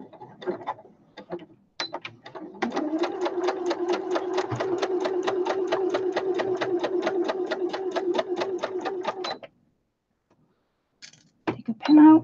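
A sewing machine stitches outer fabric at a quarter-inch seam allowance, producing a fast, even mechanical clatter for several seconds after brief starts, then stopping; a voice speaks around it.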